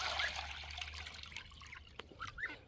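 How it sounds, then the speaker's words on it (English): Fresh water poured from a pitcher into a basin for pastured broiler chickens, a steady near trickle and splash lasting a couple of seconds with faint outdoor sounds around it. "I need to come in there and get you some water. I have a pitcher right here."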